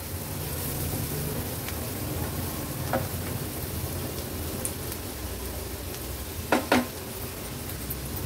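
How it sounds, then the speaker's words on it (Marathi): Turmeric and homemade Agri Koli masala sauté in hot oil over a high flame, giving a soft, steady sizzle with a few faint clicks and a brief stir near the end. "हळद मसाला तेलावर छान परतून घेऊया"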